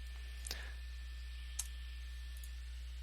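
Computer mouse clicks while working in an Excel spreadsheet: a few sharp, quiet isolated clicks spaced about a second apart over a faint steady electrical hum, with no talking.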